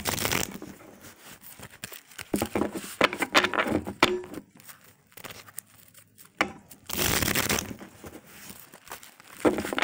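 Tarot cards being shuffled, with bursts of papery crinkling and riffling that come and go close by, separated by quieter pauses.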